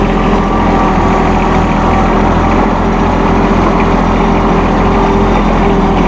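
A 2016 John Deere 2025R compact tractor with a 24.2 hp engine and front loader drives forward on manual throttle, its steady engine drone loud and close with a low rhythmic pulse running unbroken throughout.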